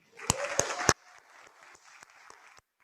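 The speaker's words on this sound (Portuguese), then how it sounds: "uma salva de palmas para todos os nossos veteranos" Audience applause at an anniversary celebration honoring veterans, a brief burst of clapping with a few sharp claps that quickly fades to scattered, thinning applause.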